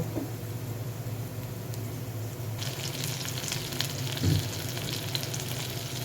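Tomato frying in a pan for Bengali bhorta, a continuous close sizzle that brightens and grows louder midway, with a few soft knocks of a utensil and no talking.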